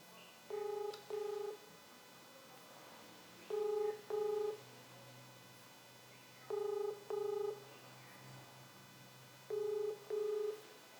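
Ringback tone of an outgoing phone call: four faint double rings repeat at steady intervals over light background hiss.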